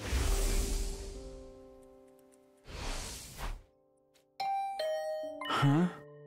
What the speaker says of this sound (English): Was that my doorbell? Who could it be at this hour?